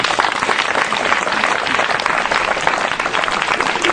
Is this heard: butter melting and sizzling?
no